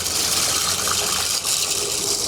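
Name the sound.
water pouring into a pot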